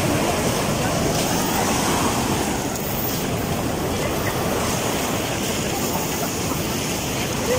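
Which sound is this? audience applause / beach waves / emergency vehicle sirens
beach waves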